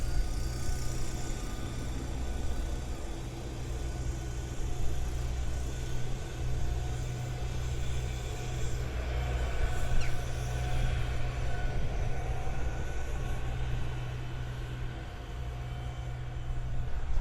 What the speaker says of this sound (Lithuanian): Ir išlydžiu dabar traukinį į Kauną.